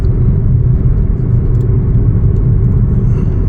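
Interior of a Chevrolet Trax SUV under acceleration: a steady, loud, low engine and road rumble fills the cabin without a break, with no voices over it.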